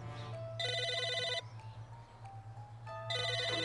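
A telephone rings in the video game Psychonauts, two bursts of a shrill electronic trill separated by a pause in which faint melodic game tones play over a low background hum.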